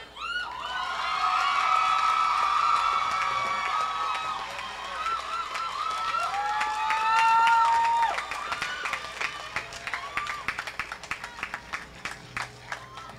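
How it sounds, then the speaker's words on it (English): An audience at the Glenmuir High School graduation ceremony claps and cheers, a sustained loud wash of applause that breaks into scattered individual claps toward the end. "Another round of applause, please."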